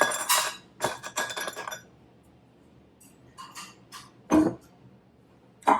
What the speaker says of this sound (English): I'm gonna put some ice in it